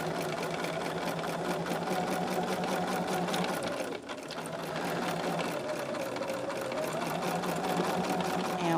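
A sewing machine runs a reinforced eighth-inch stitch on a charm tote bag, its fast rhythmic mechanical chatter loud and continuous with a brief pause midway.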